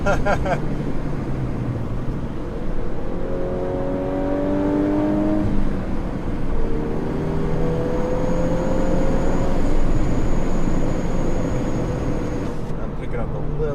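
A Volkswagen Golf R, eighth generation, accelerates hard on the road, its engine note climbing in rising sweeps as a thin turbo whistle rides above it, with a voice speaking over the drive.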